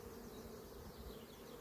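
Close, constant buzzing of many honey bees in a hive during small-scale queen breeding, an even drone with no talking.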